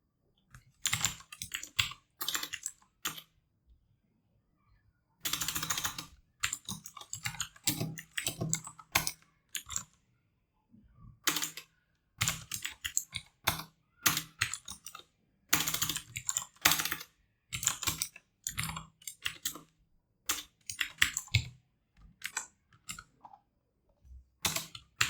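Rapid typing on a computer keyboard during live competitive coding, close clattering bursts of keystrokes broken by short pauses, with no talking.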